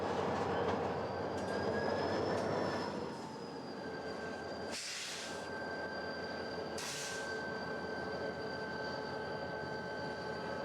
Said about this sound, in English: Moments later, the coal train heads south as the helpers follow gingerly at a short distance.